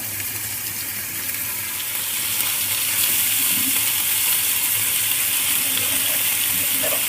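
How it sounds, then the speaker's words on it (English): Steady, loud sizzling of small meat patties frying in a hot pan, a dense continuous crackle that grows slightly stronger partway through. "It's hot enough to start sizzling."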